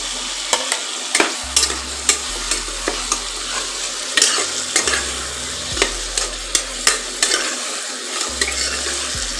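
Pointed gourd and fried potatoes are stirred into hot spices in a pan, with steady scraping strokes of a spatula over a constant loud sizzle and repeated sharp clinks against the pot.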